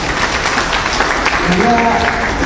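An audience claps for a doctor at a free hemorrhoid treatment camp, a brief burst of dense applause with voices mixed in.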